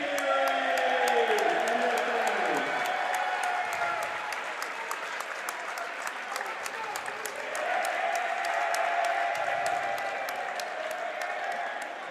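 A high school basketball crowd cheering and applauding at a game, a sustained roar of clapping and voices from start to finish, with an announcer talking over it.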